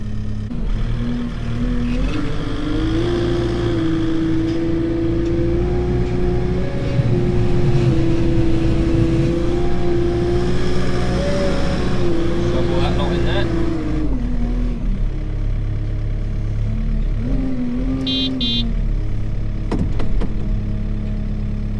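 A Kubota R090 wheeled loader's diesel engine runs steadily while driving forwards, a continuous close mid-pitched drone that dips briefly near the end, with a person talking over it throughout.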